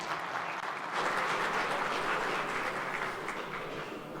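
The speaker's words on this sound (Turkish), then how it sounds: "Buyursunlar efendim alkışlarınızla." Steady, dense applause from the audience at an international grain conference in Türkiye, continuous for several seconds with no talk over it.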